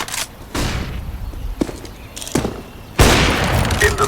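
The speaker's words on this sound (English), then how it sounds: "Throwing flashbang." Counter-Strike match on the Inferno map with grenades and a flashbang going off: several sharp, loud bangs spaced across the clip, the strongest near the end, with shuffling and mechanical clicks between them.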